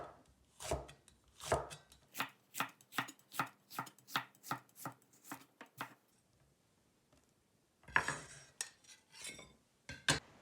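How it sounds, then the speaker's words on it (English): A knife slices a jalapeno on a cutting board, about a dozen crisp, evenly spaced chops close up, a short pause, then a few more quick cuts. "For the jalapeno, remove the end. Now slice it up."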